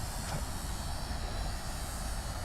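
A Batik Air 737 MAX 8 taking off from runway 34 left at Sydney Airport, a steady, distant engine roar and rumble, even in level throughout the short stretch.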